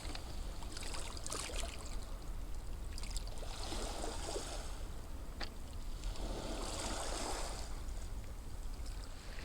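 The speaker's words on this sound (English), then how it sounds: "I'll show you the lap of the waves." Calm sea waves lapping gently against a seafront, a steady soft wash of water with broad swells building and receding, continuous and close with no voices.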